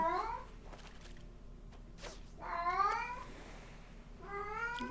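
Cat meowing several times in drawn-out, wavering calls, with a pause and then two more cries, close and fairly clear over a low background hum.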